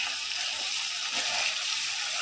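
Chili powder sizzles and fries in oil in an iron wok for a village-style desi chicken curry, a steady close hiss with faint stirring scrapes.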